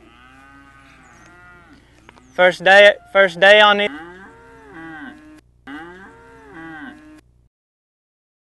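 Cattle moo loudly while a cow dog works them: several long, drawn-out bellows in a row, with someone speaking briefly between the calls.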